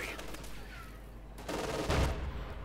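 A .50 caliber machine gun firing in a Company of Heroes 2 battle, a rapid burst rattling over a steady low rumble of battlefield noise, swelling louder toward the end.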